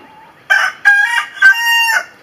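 A rooster crows loudly and close by, a single drawn-out cock-a-doodle-doo broken into several bursts, with no one talking.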